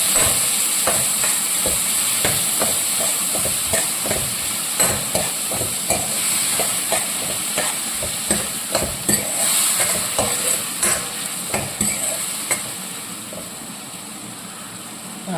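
Potato curry being sautéed in oil in a pan, with a steady close sizzle and repeated scraping stirs of a spoon against the pan running throughout, no voices.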